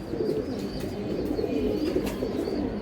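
A steady crowd of pigeons coos at a pigeon market where breeds like Silver Giribaz and Gorra are sold, a continuous murmuring chorus with soft overlapping calls and no voices.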